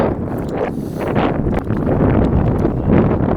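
Steady gusty wind roars across open water, a continuous low rumbling buffet against the microphone with no voices.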